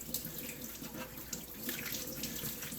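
Hot water runs steadily from a sink tap while Norwex cloths are rinsed under it, a continuous close splashing stream with small shifts as the cloths move through the flow.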